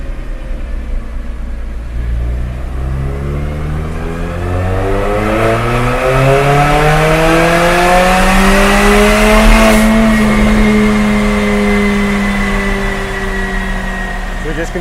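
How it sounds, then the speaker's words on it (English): Mercedes-Benz CLA45 AMG fitted with a catless stainless-steel Armytrix Valvetronic turbo-back exhaust revs up loudly, rising steadily in pitch for several seconds, then holding high and easing off, with a deep rumbling drone throughout. "So we just completed the test of the Armytrix turbo back exhaust."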